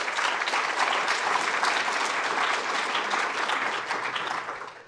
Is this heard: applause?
yes